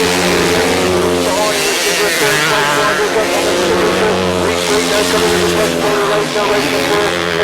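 Grasstrack race bikes roar down the back straight at a 2009 Fenland Trophy meeting, several engines blaring loud and sustained with rising and falling pitch, under a commentator's voice.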